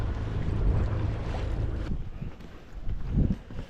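A sailboat getting under way off the west coast of Scotland, with steady wind buffeting the microphone over a broad rush of water and hull noise, loud and continuous with no voices.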